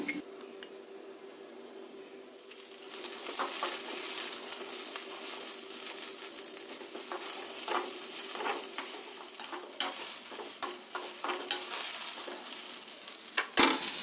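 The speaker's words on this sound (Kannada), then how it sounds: "ಇದಕ್ಕೆ ಸ್ವಲ್ಪ ಎಣ್ಣೆ ಹಾಕ್ಕೊಂಡು ಹುರಿತೀನಿ" Onion and garlic frying in oil in a pan, a dense crackling sizzle rising after a quiet start and continuing steadily, with frequent scraping and clinking of a spatula against the pan, close up.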